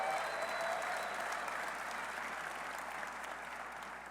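A room full of people applauds at a West Virginia University football introductory press conference for new coach Rich Rodriguez, with steady clapping that slowly fades toward the end.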